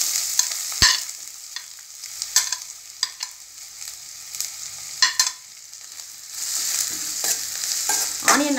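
Chopped onion fries in hot oil with fennel seeds, giving a bright crackling sizzle broken by sharp spoon scrapes and clinks as it is stirred, strongest early and again toward the end.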